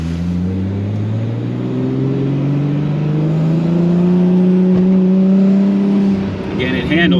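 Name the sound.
2JZ-powered Nissan 240SX engine revving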